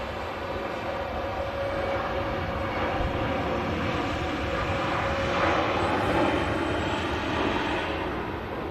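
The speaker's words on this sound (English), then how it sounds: "This Lufthansa going nice and quick on the taxiway" A Lufthansa Airbus A321neo taxiing quickly along a taxiway at Manchester Airport, its engines giving a steady, moderately loud broadband roar that holds even throughout with a slight swell near the end.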